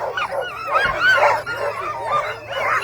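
Sled dogs in Canada's Arctic near Fort McPherson bark, yip and whine excitedly while being hooked to the line, several close, overlapping voices in a loud, continuous chorus.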